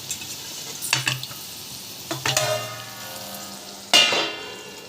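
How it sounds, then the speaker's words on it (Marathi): Green chillies frying in hot oil for crisp moong dal bhaji, a soft sizzle with stirring clatters and a few sharp bursts of spitting oil. "खाण्यासाठी मिरच्या पण तळून घेऊया"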